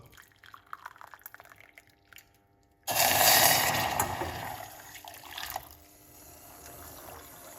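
Hot water is poured into a cup: a sudden gushing splash follows faint clinks, then settles into a softer trickle that tapers off.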